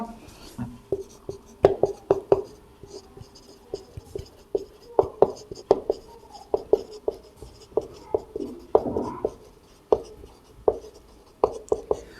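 A pen scratches across paper in short strokes and taps, close and fairly clear, with pauses between bursts; someone speaks intermittently over the writing.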